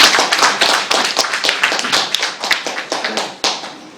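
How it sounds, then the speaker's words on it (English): A small audience applauds debate teams at the close of a school debate. The clapping is close and brisk, with individual claps clearly distinct, and fades a little over about four seconds. "Let us give another round of applause for our debate teams."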